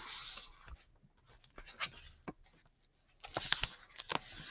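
A paper packet page is folded along its short edges, soft rustling and rubbing with a few crisp creasing taps, close and quiet with brief pauses between movements.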